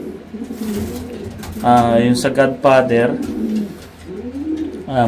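Pigeons in a loft coo in soft, low repeated calls while someone talks over them at close range.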